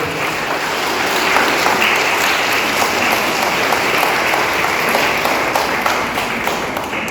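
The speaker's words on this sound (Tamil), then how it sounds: "அருட்தந்தை அவர்களுக்கு நமது நெஞ்சு நிறைந்த நன்றியை இருகரம் தட்டி பாராட்டுவோம்" Applause for the priest at a church feast-closing Mass at the Infant Jesus shrine in Guindy: a dense, steady crowd clapping that holds at an even level throughout.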